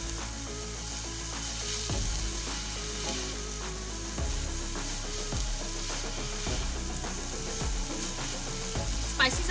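Shredded boiled chicken stirred into a hot pan for chicken kachori filling, with steady sizzling frying and repeated scraping and clanking of a spoon against the pan, close and continuous.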